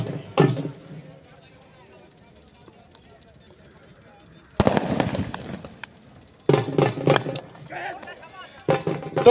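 Firecrackers crackle in rapid bursts at a village cricket match, with several separate volleys of sharp pops under a commentator's continuous talk.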